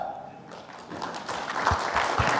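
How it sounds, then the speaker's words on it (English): Audience applause at a workforce summit, building from a thin start into a fuller wash of clapping across the hall, with a couple of heavier thumps near the end. "we should clap."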